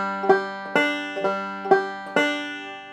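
Bluegrass banjo picking a fast backward roll, clear plucked notes rising in quick repeating groups of three, bright and close with no voices.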